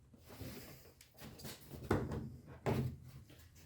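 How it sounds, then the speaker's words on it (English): Prying up a trim panel on an Audi A4 B6/B7 gives two sharp plastic clicks and pops close by, separated by softer scraping and handling noises, with no talk. "just keep prying up"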